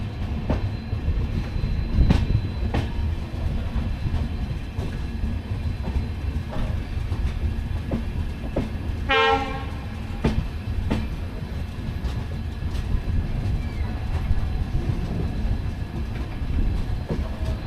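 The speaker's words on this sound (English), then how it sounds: "this train will continue on its journey to Indore" A passenger express on an Indian railway line between Jodhpur and Jaipur rolls steadily with a low rumble, periodic wheel clicks over rail joints, and a short squealing tone partway through.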